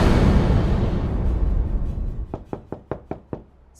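Knuckles rap on a house door in a series of about six evenly spaced, fairly loud knocks, which follow a stretch of broad whooshing noise, with no voices.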